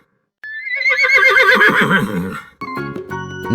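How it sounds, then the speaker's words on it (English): A horse neighs loudly in a long, wavering whinny, followed by a brief break and a few shorter snorting, whinnying calls, with no talk over it. "Oh, that's a horse."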